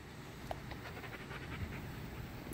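A dog pants steadily and quietly close by, a soft continuous rhythmic breathing over low background hiss.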